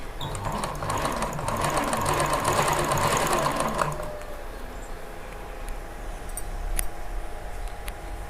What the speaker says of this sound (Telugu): ఈ విధంగా పూర్తిగా కింది వరకు మనము స్టిచ్చింగ్ అనేది చేసుకోవాలి